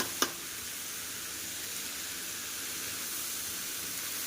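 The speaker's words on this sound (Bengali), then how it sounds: "এবার মশলার সাথে চালটাকে খুব ভালোভাবে একটু ভাজা করে নেব।" Soaked rice fries with spices in a pan for egg biryani, giving a faint, even sizzling hiss throughout after one brief tap at the start.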